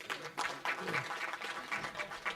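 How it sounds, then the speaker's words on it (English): Audience applause at a memorial lecture at the University of Johannesburg, a steady patter of many hands clapping through the whole moment, with voices faintly mixed in. "I think it deserves another round of applause"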